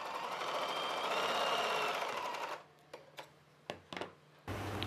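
A sewing machine stitching a straight seam on a child's frock, a loud continuous whirring run for over two seconds, then it stops, followed by a few sharp clicks and knocks and a brief low hum.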